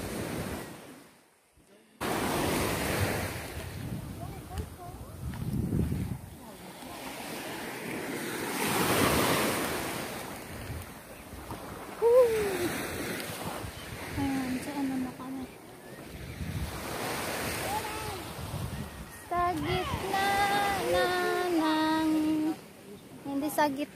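Ocean waves wash onto a beach at Long Kee Wan in Hong Kong, a steady broadband surf roar with wind buffeting the microphone, while people talk and exclaim excitedly over it.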